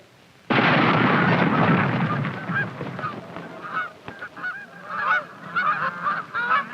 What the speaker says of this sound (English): As the geese move about and feed at the marsh